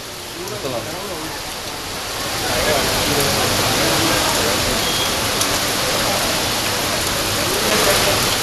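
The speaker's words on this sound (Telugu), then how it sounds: "నిర్మల్ జిల్లా కేంద్రంలో ఉరుములు మెరుపులతో కూడిన వర్షం కురుస్తోంది" Heavy rain pours down over a flooded town in Telangana during a thunderstorm, a dense, loud, continuous hiss of water that swells after the first couple of seconds and holds steady.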